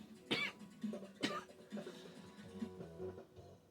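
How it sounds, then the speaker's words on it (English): A person coughs in two sharp bursts followed by smaller throat-clearing sounds, close and fairly loud, with no speech over it. "Excuse me while I cough my guts up."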